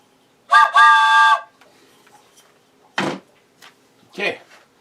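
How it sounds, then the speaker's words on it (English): A short two-part train whistle blast sounds near and loud, a bright harmonic tone lasting under a second, followed by quieter thumps and a brief puff after a pause. "Train whistle."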